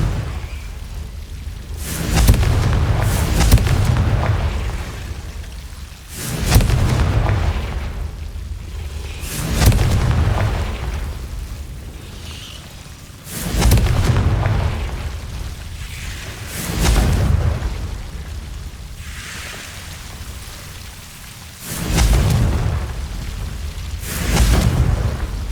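Fire spell explosions in the video game Hogwarts Legacy, six deep booming blasts spaced a few seconds apart, each followed by a rumbling decay, with no talking over them.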